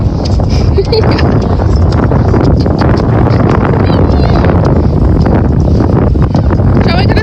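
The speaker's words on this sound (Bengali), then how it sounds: "বাতাস বাতাস বাতাস বাতাস" Strong wind buffeting the microphone outdoors at Häme Castle in Finland on a sunny day, a loud continuous low roar filling the whole stretch with steady rumbling gusts and no clear speech.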